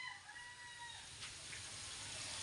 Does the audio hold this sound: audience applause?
no